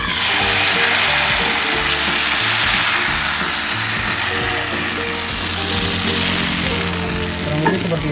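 Dadar gulung batter sizzles steadily and loudly in a hot Teflon pan greased with ordinary butter, a dense continuous frying hiss throughout with no talking.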